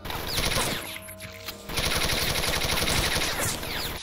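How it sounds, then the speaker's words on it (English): Thompson submachine gun, a 1918 design, fires in a Wolfenstein: Blade of Agony Doom mod game: loud, rapid automatic bursts with a short lull partway, then sustained chattering fire to the end. "the Thompson is a submachine gun created in 1918 used by Allied forces World War I and II"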